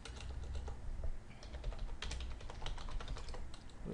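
Typing on a computer keyboard to enter a search, a steady flurry of close, light key clicks at an even pace without any voice.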